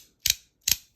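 A handheld zirconia toy with a slightly tight inner bearing snaps twice in quick succession. Each snap is a sharp, close click.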